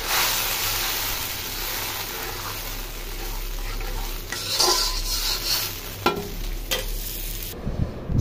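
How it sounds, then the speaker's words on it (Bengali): Onions fry in a pan with a steady sizzle while a utensil stirs and scrapes against the metal, louder clattering scrapes toward the end, close up with no talking. "পেঁয়াজটা ভাজা ভাজা হয়ে গেছে"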